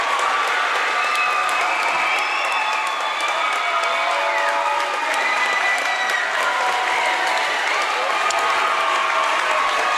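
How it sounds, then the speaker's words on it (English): Crowd applause and cheering fill a high school regional championship volleyball gym right after the winning point, a dense, steady roar of clapping and shouts with no gaps. "Listen to the crowd."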